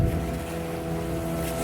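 A fishing boat motors out to sea before dawn. Its engine gives a steady low hum, mixed with wind buffeting and rushing water.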